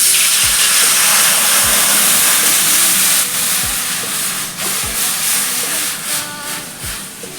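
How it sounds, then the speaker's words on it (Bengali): Water hits a hot wok and bursts into a loud, close steam hiss that slowly eases, with a few soft dull knocks of the pan beneath it. "এবার কড়াইতে জল দিয়ে দেব।"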